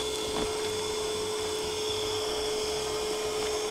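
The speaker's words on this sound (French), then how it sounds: "Un aspirateur à cagouille." A vacuum cleaner adapted for collecting snails in a farm enclosure runs with a steady, loud motor whine and airflow roar, continuous and close, with a faint knock near the start.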